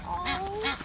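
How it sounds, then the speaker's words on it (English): Canada geese honk at a beach, two short nasal calls close together, loud and near with no talk. "I saw a Canadian geese, so there's 6 geese."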